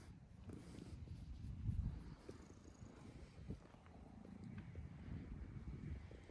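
Cat purring while being petted, a soft continuous low rumble close to the microphone with faint background noise, no talking.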